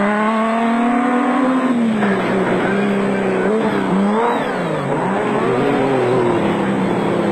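Castrol Toyota rally cars ploughing through thick sand, engines revving and straining loudly with rising and falling pitch, continuous close engine roar throughout.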